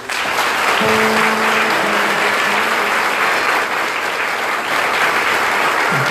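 A chapel congregation gives seminarians a round of applause at a first Mass at the Seminário Maior Sagrado Coração de Jesus, Fazenda Tabor. The clapping is loud, dense and steady for the whole stretch, with no pause.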